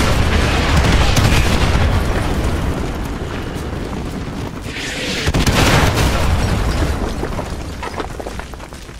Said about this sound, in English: Artillery inbound. Coordinates confirmed. Firing.